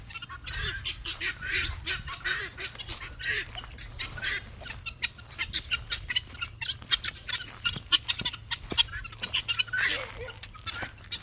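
Free-range chickens clucking and squawking close by among a large flock, with goose-like honks mixed in, steady busy bird noise throughout and a few voices in the background.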